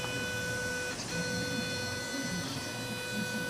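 A 3D printer running a long print under wireless remote control, giving off a steady mechanical hum with faint high tonal whine and soft stepper-motor movements, close and continuous, with no talking.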